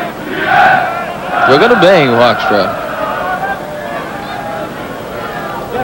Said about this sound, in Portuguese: Agora a pequena torcida do PSV presente, fazendo uma verdadeira comemoração, deixando calada a torcida do Vitesse.